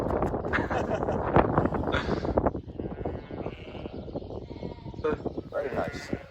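Sheep bleat repeatedly near a Bedouin tent in Jordan, loud and close, with someone talking over and between the cries and wind buffeting the microphone.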